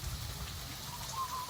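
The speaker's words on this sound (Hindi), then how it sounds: "पूरा इतना बारिश हो रहा है अभी इस बार।" Rain falls in a steady broadband hiss over rural farmland with maize, fairly faint and unbroken, with a low rumble underneath.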